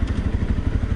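Small motorcycle engine running while being ridden around Sakon Nakhon city, a steady close low-pitched pulsing drone with rapid rhythmic throb and wind noise.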